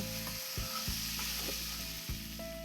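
Chicken seasoned with ground black pepper and salt sizzles steadily in a pan, a continuous frying hiss broken by a few low thumps and scrapes of stirring, with no talking.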